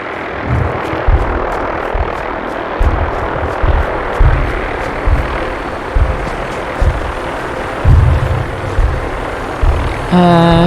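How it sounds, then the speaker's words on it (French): A helicopter's rotor thumps in a steady rapid throb with a constant engine hum, loud and continuous, ending with a brief electronic chime, in the video game Fallout 4. "J'ai entendu un hélicoptère, il est où?"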